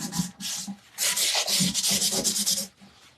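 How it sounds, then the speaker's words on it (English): Paper towel rubbing excess off a silver tray during a rice-paper decoupage makeover, heard as a close, loud, repeated scrubbing swish in several bursts with a brief pause between strokes. "And then just wipe the excess off, just like so."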